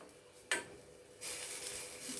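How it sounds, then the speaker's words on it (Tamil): Drumsticks dropped into a pot of simmering ground-masala kuzhambu: a sharp clatter, then a hiss and sizzle of bubbling liquid that swells and holds steadily, close and fairly quiet. "இப்போ நம்ம முருங்காய் அதை போட்டுடலாம்"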